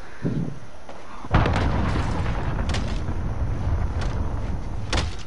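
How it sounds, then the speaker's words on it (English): A cruise missile strike lands in a Call of Duty: Modern Warfare multiplayer match, a sudden heavy boom followed by a sustained rumbling roar, with a few smaller bursts and pops in the chaotic battle noise. "Enemy cruise missile incoming!"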